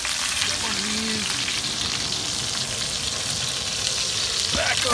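Cowboy ribeye steak searing over a hot fire, a loud continuous sizzle and crackle held close throughout, with faint background noises.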